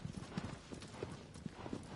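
Horse hooves clip-clopping in a video game, a quick run of light, fairly faint hoof clops in irregular rhythm, with no one speaking over them.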